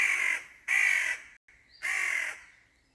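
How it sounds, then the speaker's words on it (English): Three loud, harsh caws from a nearby crow, evenly spaced with brief pauses between, heard outdoors beside a Husqvarna 550 EPOS robotic lawn mower with no talk. "this bird is not happy"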